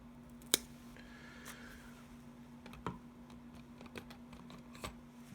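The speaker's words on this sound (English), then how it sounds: "I think the stick is too long for me, so I just cut to a little bit short." Scissors snip a small stick shorter during model weathering work at a quiet desk, a few sharp isolated clicks spaced a couple of seconds apart over a faint steady hum.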